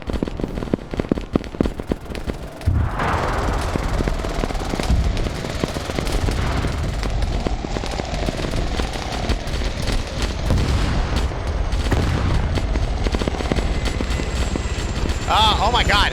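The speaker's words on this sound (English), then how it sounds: "Got one guy up here just utilizing the missile launcher." A missile launcher and gunfire sound in a Starship Troopers video game battle. Dense, continuous shooting crackles and booms for the whole stretch under a steady whirring drone, with a few sharper blasts near the start.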